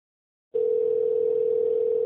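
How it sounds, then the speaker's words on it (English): A telephone line tone starts abruptly after a second of silence and holds as one steady, unbroken electronic hum, loud and close, with no speech over it. "Answer the phone."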